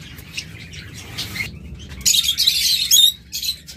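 Pet lovebirds and cockatiels chirp close by, scattered soft tweets giving way to a louder cluster of bright, sharp calls near the middle over a low background hum.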